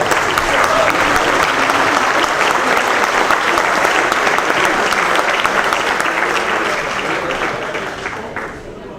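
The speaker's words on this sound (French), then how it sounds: "Donc je vous demande de vous applaudir." An awards ceremony audience gives loud, sustained applause that fills the room for several seconds, then starts to fade toward the end.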